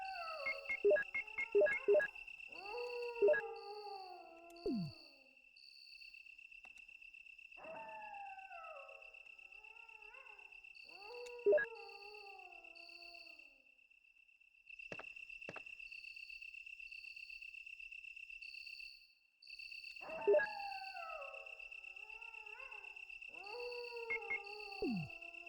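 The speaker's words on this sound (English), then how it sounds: "there's a lot of dogs howling. Just like the same 30-second loop over and over again" Looping video-game soundscape from Resident Evil Director's Cut: distant dogs howl in repeated drawn-out, falling cries over a constant high cricket-like drone, with a few sharp clicks and brief dropouts.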